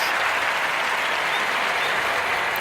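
Applause from an audience fills the whole stretch as a steady, dense wash of clapping, loud and unbroken from start to finish, with no voices standing out.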